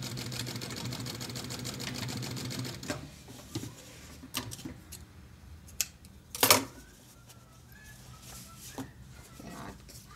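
A sewing machine stitches elastic on a diaper cover with a quick, steady mechanical whirr for about three seconds, then stops, leaving scattered handling clicks and one sharp rustle; quiet and close, with no talking.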